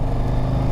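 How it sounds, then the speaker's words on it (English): A 2024 Harley-Davidson Street Glide engine under throttle gives a loud, steady low rumble with a thick drone, close up and with no voices, lasting under a second. "I could definitely feel I'm giving it more throttle and it's not taking off"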